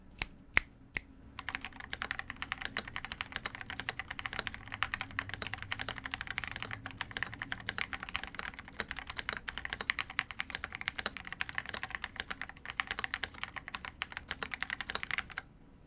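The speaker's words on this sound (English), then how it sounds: "Let's do the sound test. Does this keyboard sound thocky enough?" Steady, rapid typing on a Keychron Q6 Ultra 8K mechanical keyboard, close and clear, with dense clacking keystrokes running throughout and no talking.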